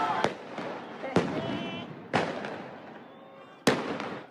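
Fireworks go off during street clashes, with four sharp, loud bangs at irregular intervals. Each bang is followed by a crackling tail, and faint voices of a crowd can be heard underneath.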